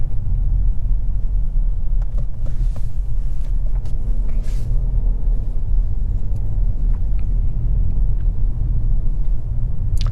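Inside a 2023 BMW 740i on the move, a steady low cabin rumble of road and tire noise holds throughout, with a few faint clicks and bumps above the drone.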